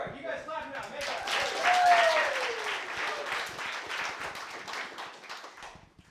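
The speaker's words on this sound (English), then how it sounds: "All right, you guys clap now." A live audience claps and cheers for several seconds, building to a loud peak and then tapering off, with voices mixed into the applause.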